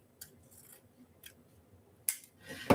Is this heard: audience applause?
no